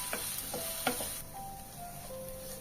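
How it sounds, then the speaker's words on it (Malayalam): Onions sautéing in a pan with spices, a soft steady sizzle broken by a few light scraping stirs and faint clinks, close and fairly quiet with no talking. "സവാള വഴന്നു വന്നപ്പോഴേക്ക് അതിനകത്തേക്ക് കറിവേപ്പില ഇട്ടു, പച്ചമുളക് കീറിയിട്ടു"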